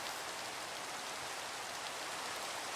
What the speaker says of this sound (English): Always seems to be rainy these days.